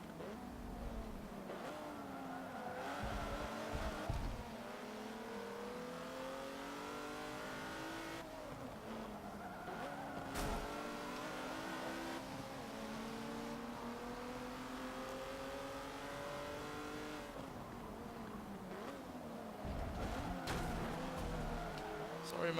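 A Cadillac races in Forza Motorsport 7, its engine climbing through repeated revving sweeps and gear shifts with occasional tire noise, steady and continuous, while a voice talks over it.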